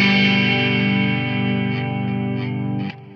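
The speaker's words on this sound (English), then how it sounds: "a lovely 4-6-5 progression, which sounds like this." Sustained chords of a pop 4-6-5 progression on a distorted, effects-processed instrument, ringing loudly and evenly for about three seconds before a slight drop at the end, with no voices.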